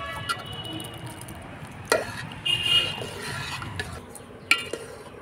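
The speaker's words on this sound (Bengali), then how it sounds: "এগুলো ভালো করে সবজি দিয়েছি, এগুলো ভালো করে আমি নেড়ে দেব।" A spoon stirs vegetables into paneer khichuri in a pot, with quiet scraping and a few sharp clinks of metal against the pot over soft background noise.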